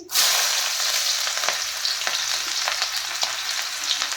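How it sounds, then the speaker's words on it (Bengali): Sliced onion and green chilli hit hot oil with cumin seeds in a wok, bursting into a loud close sizzle that crackles on steadily with sharp spitting pops. "এখন এবার পেঁয়াজ আর কাঁচা লঙ্কাটা দিয়ে দিচ্ছি।"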